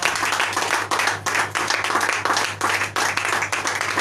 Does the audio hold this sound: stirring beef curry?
no